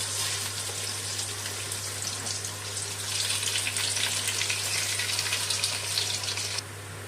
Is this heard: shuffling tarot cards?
no